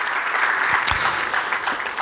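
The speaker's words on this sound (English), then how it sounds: "let's give him a round of applause for his playing career." An audience claps steadily at a pickleball Hall of Fame induction ceremony, a dense even wash of applause that holds at one level for a couple of seconds.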